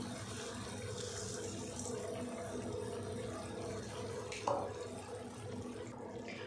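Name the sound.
water poured into pot of lentils and rice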